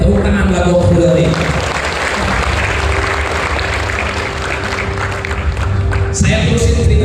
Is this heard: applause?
yes